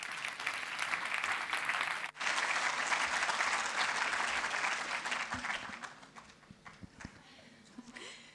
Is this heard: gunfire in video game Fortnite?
no